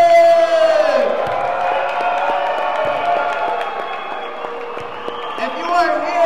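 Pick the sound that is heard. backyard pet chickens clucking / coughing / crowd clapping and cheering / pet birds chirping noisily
crowd clapping and cheering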